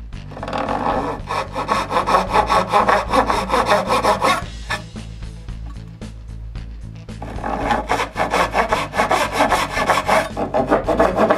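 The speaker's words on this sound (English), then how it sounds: "With a fine-tooth saw, I cut with an angle on the line." A fine-tooth hand saw cuts wood at an angle along a marked line for drawer construction, with close, loud, rapid rhythmic strokes in two bursts separated by a brief quieter pause.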